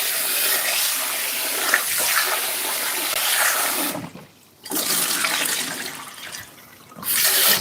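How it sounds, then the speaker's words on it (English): Water runs steadily from a tap while starch and onion are rinsed off food in a kitchen, a continuous splashing hiss that briefly cuts out twice before resuming. "the best thing to do is just give it a bit of a rinse, wash some of the starch away"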